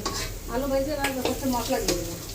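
Potatoes frying in a pan for a home-cooked meal alongside goat meat curry, a steady close sizzle with light stirring scrapes, while people talk in the background.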